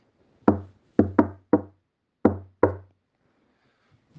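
Six sharp, hollow knocks on an oak tree trunk, close and loud, come in an uneven rhythm of single and paired strikes, followed by quiet.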